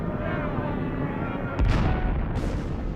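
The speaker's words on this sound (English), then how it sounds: "the battleship's guns opened up on Polish fortifications" An aged battleship's naval guns fire on Polish fortifications, one heavy booming blast followed by a second duller report over a constant low rumble of background noise.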